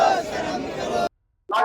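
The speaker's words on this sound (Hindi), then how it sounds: "ईडी मुख्यालय पर कांग्रेस की ओर से धरना प्रदर्शन किया जा रहा है, नारेबाजी की जा रही है" A crowd of Congress protesters chants slogans loudly in unison outside the ED headquarters, the shouting voices abruptly cutting out briefly before resuming.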